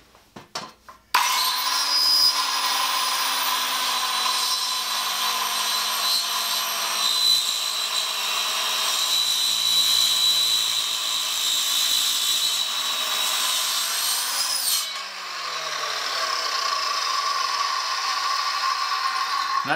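A Sears Craftsman 7-inch electric hand saw fitted with a plywood blade cuts through wood. A brief start-up precedes a loud, steady whine that holds for about fourteen seconds, then the pitch drops slightly as the cut ends and the motor spins on.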